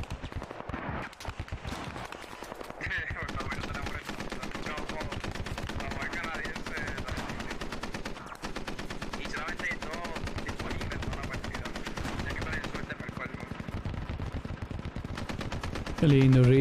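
Rapid rifle gunfire in the military shooter game Squad, dense continuous bursts of shots over a busy battlefield mix, with voices faintly underneath.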